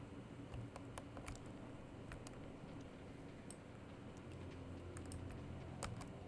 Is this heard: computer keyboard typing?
yes